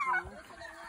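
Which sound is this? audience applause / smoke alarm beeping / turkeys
turkeys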